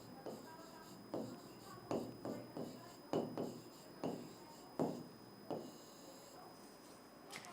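Chalk or marker strokes writing out words on a board in a classroom lesson, a series of short scratchy strokes in uneven bursts, close and fairly quiet.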